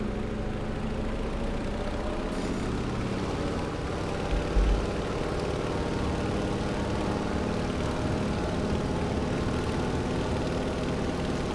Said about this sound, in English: And we just go full throttle. Let's just make sure we have full RPM,